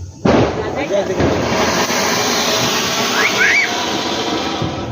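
Diwali firecrackers burst outdoors in a loud, continuous hissing crackle lasting several seconds, with rising whistles partway through and voices nearby.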